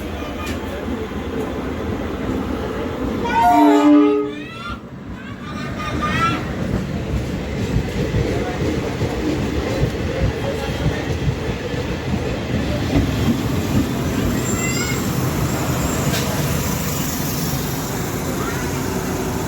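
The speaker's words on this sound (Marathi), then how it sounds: "आपल्या ट्रेनने पण हॉर्न दिलेला आहे." Indian Railways train on the Nanded to Kinwat line passes with a steady rumble and clatter, a short loud horn blast sounding early, heard from on board and fairly close.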